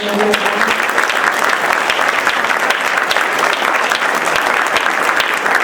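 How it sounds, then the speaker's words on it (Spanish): Audience applause for María Galindo at a book presentation in Chile, a dense steady wash of many hands clapping, loud and sustained throughout with no pauses. "Yo creo que se merece un gran aplauso a María."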